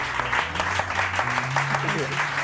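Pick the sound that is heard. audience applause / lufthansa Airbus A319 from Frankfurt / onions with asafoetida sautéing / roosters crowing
audience applause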